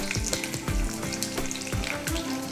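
Dried red chilli pieces fry in hot oil with mustard seeds and cumin, giving a dense, bright sizzle with small popping crackles and a few soft stirring scrapes, close and continuous.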